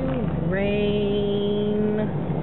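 A car engine hums steadily, its pitch rising as it accelerates and holding a sustained drone for a couple of seconds before easing off.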